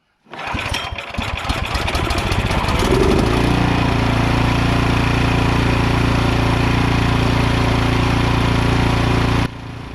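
A snow blower's small engine catches after a second or two of cranking, then settles into a steady, loud, even run close by, cutting to a lower level just before the end.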